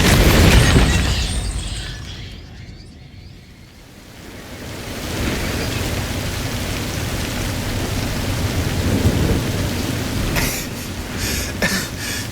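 Steady rain hisses for most of the clip in a Forza Horizon 5 thunderstorm, with a loud noisy burst at the start and scattered crackling splashes near the end, no voices.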